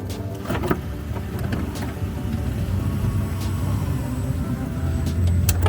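A car drives along a Canadian road toward Edmonton, its steady low engine and tyre rumble filling the cabin at an even level throughout.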